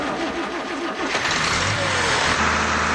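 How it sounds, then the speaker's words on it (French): Engine converted to run on water injection in place of petrol, sputtering and popping loudly and continuously at close range, with a low rumbling drone throughout. "voilà la machine qui pétarade à tout va"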